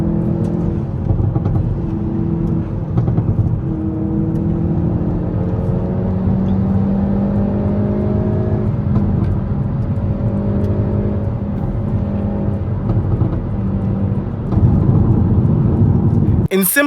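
A 2024 Hyundai i30N drones steadily under load with the NGS overboost engaged, its engine note rising and falling through gears, with a louder surge near the end and a sharp crackle at the close.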